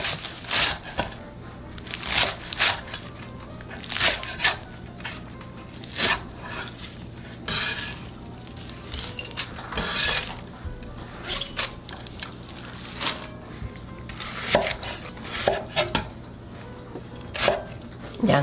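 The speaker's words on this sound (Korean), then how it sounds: "먹기 좋은 크기로 4 내지 5cm 정도로 자를게요" A knife cutting chives and a little carrot into 4–5 cm lengths on a board, a run of sharp irregular chops and clacks, close and fairly loud, with quiet background hum between strokes.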